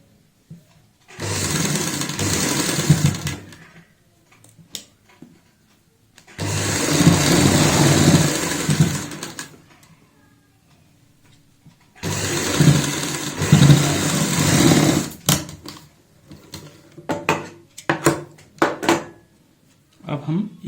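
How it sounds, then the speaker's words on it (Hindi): Sewing machine stitching a palazzo bottom, running in three long, loud bursts of close mechanical whirring with quiet gaps and a few clicks between them. "इस साइड से फिर से सिलाई लगाएंगे"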